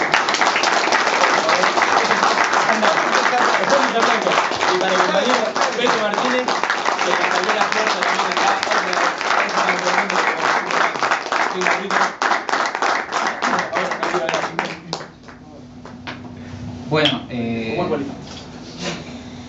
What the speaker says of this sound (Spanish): un aplauso para Mauro